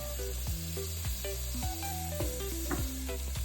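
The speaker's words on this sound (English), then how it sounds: "I'm gonna go ahead and add our cubed meat." Cubed seasoned meat sizzles steadily as it browns in a hot pan for an Eritrean dish. The hiss is continuous and close, with faint scraping clatter from stirring now and then and no voices.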